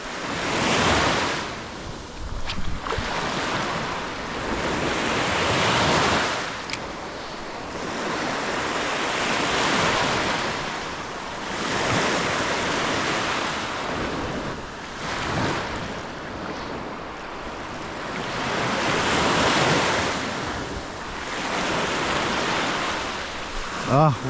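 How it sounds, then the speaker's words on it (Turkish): Ocean surf rolling in repeated broad swells, each wave building and washing out, with wind buffeting the microphone throughout. "Şimdi dalgalar artık çoğalacak bu saatten sonra."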